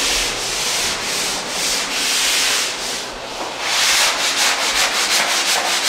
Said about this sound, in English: They are doing final sanding and touch-up work